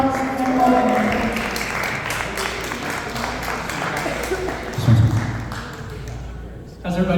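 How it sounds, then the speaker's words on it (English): An audience breaks into a swell of clapping to welcome a speaker to the stage at a talk, the applause filling the space and tapering, with a few thuds and voices mixed in. "Let's give him a huge round of applause and welcome him."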